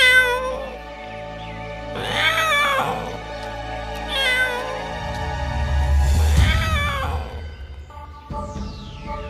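A person mimics a cat, giving several drawn-out, wavering meows one after another at close range, with a low rumbling background underneath and no other talk.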